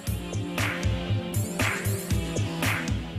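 A rope braiding machine with moving bobbins runs in a steady mechanical rhythm, a pulsing hum with regular clacks and periodic louder whooshing swings, close and continuous, no talking.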